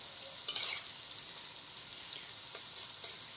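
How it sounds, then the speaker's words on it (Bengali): Steady crackling sizzle of leftover roti chips frying in hot oil, with a brief louder burst of spitting near the start, continuous throughout. "প্রথমে এরকম লাল লাল করে ভাজা নেবেন"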